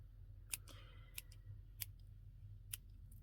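Scissors cut through paper while a bookplate is made, giving four sharp, crisp snips spaced about a second apart, close and quiet against a faint background hum.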